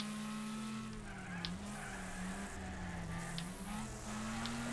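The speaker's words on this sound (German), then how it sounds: "Lieber Michael Schumacher, gib Gas." Racing cars in the Wreckfest video game roar along with a sustained engine whine and repeated tire squeals and skids, the pitch rising and dipping as the car accelerates and corners, with no voices heard.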